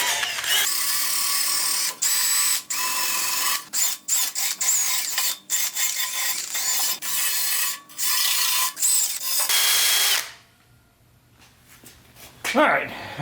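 Harsh, bright scraping of scaly rust off metal repeats in long strokes with short pauses, then stops, leaving quieter handling noises.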